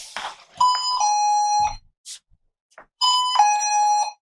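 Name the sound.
pressure mat alarm receiver sounding after arming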